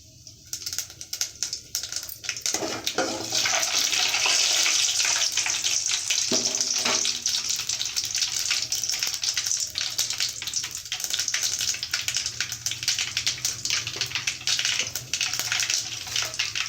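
Tempering spices crackle and splutter in hot oil for a Telugu alasanda (black-eyed bean) curry, a dense continuous sizzle with rapid pops that builds after the first couple of seconds and stays loud throughout.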